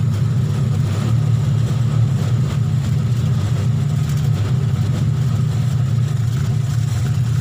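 A car engine idles steadily at 800 rpm, a continuous low, even rumble throughout, close and fairly loud with no talk.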